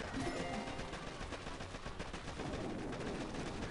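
Rocket troops firing in the Boom Beach mobile strategy game, a dense, continuous barrage of blasts and crackling gunfire that never lets up, steady and loud throughout.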